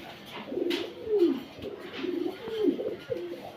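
Large pigeons at a pigeon market give a run of deep, rolling coos, several overlapping calls rising and falling close by, with little talk over them.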